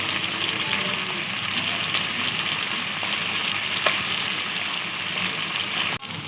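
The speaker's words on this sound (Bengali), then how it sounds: "এক পিঠ হয়ে গেছে, আর এক পিঠ ভালো করে ভেজে নেব।" Pieces of katla fish fry in hot oil with a steady, close hissing sizzle that holds throughout, ending with a brief knock near the end.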